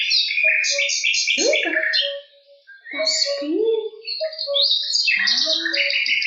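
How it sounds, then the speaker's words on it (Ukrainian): Several forest birds chirp and trill in bright, overlapping bursts, with varied whistled calls and a brief pause midway, clear and fairly close with no voices. "Ой, як гарно в лісі, які гарні лісові звуки."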